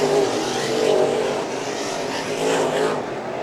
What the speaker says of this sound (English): White flag is flying for Robbie Sawyer, looking to go and sweep the weekend here at Perris Auto Speedway.